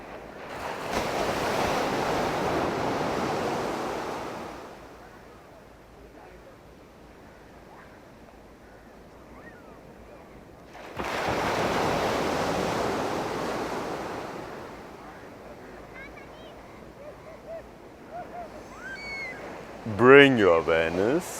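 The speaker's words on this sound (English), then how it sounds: "When we try to listen to the waves of the sea" Sea waves wash in two long, rolling surges with quieter lulls between them, with a voice speaking near the end.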